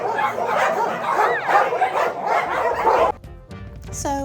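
Dogs at an animal care center in Monteverde, Costa Rica, bark and yip, with several overlapping barks and whimpers mixed with background voices, ending in a brief high whine.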